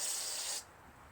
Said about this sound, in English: I'm using carb cleaner